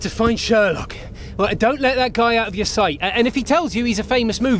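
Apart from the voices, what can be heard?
No everyday noises stand out.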